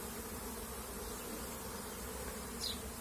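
Steady, dense buzzing of many bees close by at a hive's wooden water feeder, continuous and even, with one insect flying past near the end.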